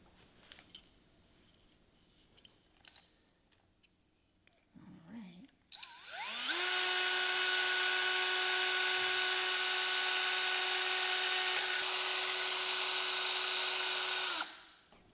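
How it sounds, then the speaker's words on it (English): A power drill starts up and runs steadily at a high, whining pitch for several seconds, drilling a hole in a suncatcher, then stops abruptly. Faint handling sounds come before it. "we can drill the hole in it"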